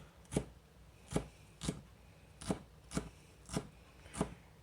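A knife julienning and chopping a vegetable on a cutting board, seven evenly spaced, crisp close knocks at a relaxed steady rhythm, quiet overall, with no talking.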